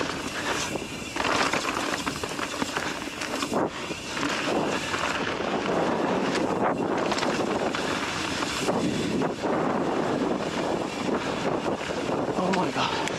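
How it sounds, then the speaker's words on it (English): Strong wind buffets the microphone on a mini downhill mountain bike track, a loud continuous roar with gusty swells throughout; a rider's voice is heard under it. "It's so windy."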